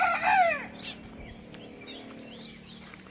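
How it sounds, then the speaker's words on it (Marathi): Chickens in a wire coop on a village morning: a rooster crows close by at the start, then hens cluck and chirp intermittently at moderate loudness over a quiet background. "कोंबड्यांचा आवाज सकाळ सकाळ"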